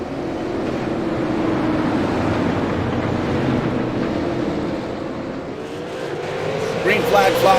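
Race cars in the iRacing sim lined up two by two for a restart at Southern National, a steady loud engine drone with rising pitch toward the end, under continuous commentary.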